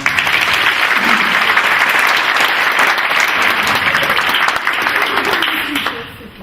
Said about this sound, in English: We got another round of applause